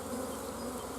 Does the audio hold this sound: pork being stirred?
no